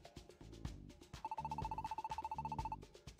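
A phone rings with a repeating electronic tone over a bouncy game music loop, the ring pulsing rapidly through the middle of the clip.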